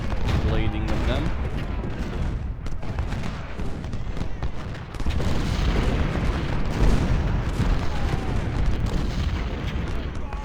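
Civil War cannons in a Total War-style strategy game boom steadily over a continuous crackle of massed musket fire, a dense, loud battle din with heavy thumps scattered throughout.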